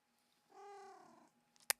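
A pet cat vocalises while being petted, a single drawn-out tonal purring trill lasting under a second, close and moderately loud, followed by a brief sharp click.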